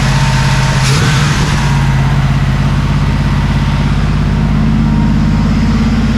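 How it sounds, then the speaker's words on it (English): An old, abandoned 1979 Camaro Z28 V8 with a freshly rebuilt carburetor revs once, rising in pitch, then settles into a loud, steady, slightly uneven idle close to the listener. "Take a rev now."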